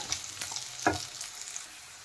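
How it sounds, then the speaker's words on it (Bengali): Taro and potato pieces sizzle in a pan in a short burst, with a brief stirring scrape partway through. "আলু আর কচু ভাজা হয়ে গেছে"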